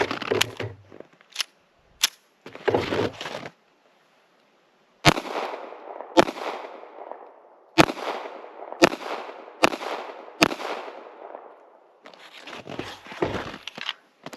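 A Ruger LCP MAX pistol fires hollow point rounds: about six sharp, loud, close reports in an uneven sequence, each trailing a short echo, preceded by clattering handling noise.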